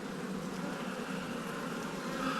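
Honeybees buzz around an opened hive in a steady, dense drone close by, with no pauses and no voices.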